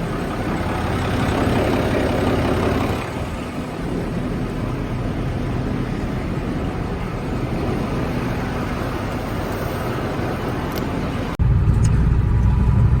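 Farm tractor engines idling in minus-ten-degree Minnesota cold, a steady low diesel rumble close by, continuous with a brief shift in tone near the end, no speech.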